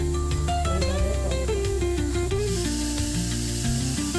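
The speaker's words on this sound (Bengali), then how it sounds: "প্রেশার কুকারে সিটি যেরকম মারলে যে শব্দটা হয়, শব্দ হচ্ছে" Steady sizzling hiss of steam while cooking chunga pitha, like a pressure cooker whistle, continuous and fairly loud, with a tonal whistle-like layer running throughout.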